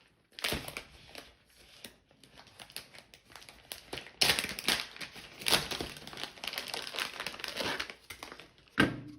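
Wax melts are cut up with a blade, producing crunchy cracking and crumbling bursts in irregular clusters, close and fairly crisp, separated by short quiet gaps, with no speech.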